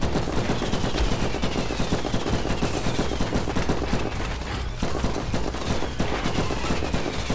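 Continuous rapid gunfire from the video game From Space pounds at a drop pod, loud and close, an unbroken automatic stream of shots.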